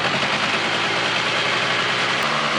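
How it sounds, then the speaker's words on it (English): Polaris 400L ATV engine running with its high beam headlight switched on, a steady broadband engine drone holding fairly level for the whole stretch, close and loud, with no clear rev rise visible and no talk. "let's rev it up again with the high beam on"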